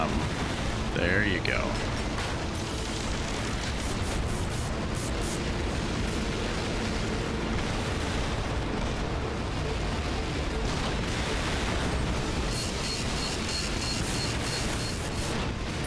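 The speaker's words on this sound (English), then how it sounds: "I am so tired of getting shot by those damn missiles." Missile explosions and gunfire hit a player's mech in Armored Core V: a dense, continuous roar of rumbling blasts and crackling fire fills the whole stretch, with people talking over the din.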